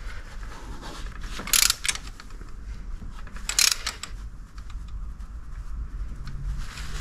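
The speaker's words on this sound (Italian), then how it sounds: "io ora ho il cricchetto." Quick ratcheting clicks from a wrench turning glow plugs in the 1.5 engine of a Renault Scenic III, two brief bursts over a low steady background.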